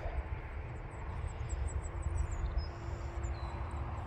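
A Buzzard Bombshell RC model airplane drones overhead in flight at about half throttle, a continuous buzzing engine tone at moderate distance over light outdoor background noise.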